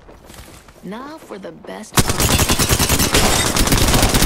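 Video game gunfire erupts suddenly after a short spoken line, becoming a dense, loud stream of rapid automatic shots that continues steadily to the end.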